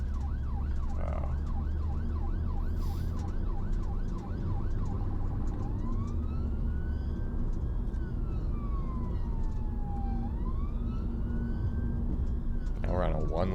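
A wailing UK ambulance siren cycles rapidly, then shifts to a slow rising and falling wail over steady road rumble, with people talking.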